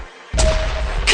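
Missiles launching in the World of Cars video game, a sudden loud whooshing blast followed by a sustained roar and a second burst near the end.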